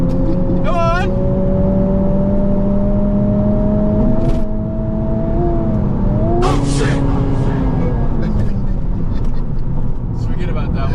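A Honda Civic Type R engine revs up through several gear shifts, the pitch climbing steadily and dropping at each shift, with a sharp burst midway and people talking over the steady, close engine note.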